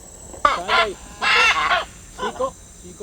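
Large parrots, macaws in the Tambopata, giving loud harsh squawking calls in three close bursts with short pauses between them, with no talk.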